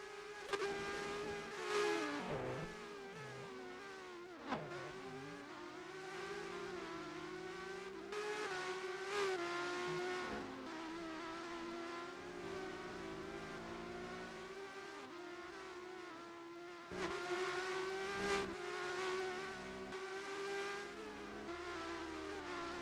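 Race cars on the back straight of a Canada track in a racing video game, several engines droning and revving steadily as traffic streams past, with shifting pitch and a few louder surges, no talk.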